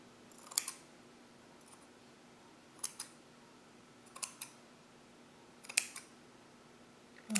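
Scissors cut through folded fabric in a series of sharp, isolated snips, close and quiet, spaced a second or two apart, with a faint steady hum underneath and no talking.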